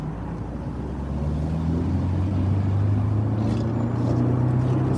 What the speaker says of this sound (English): Sounds like my Mustang.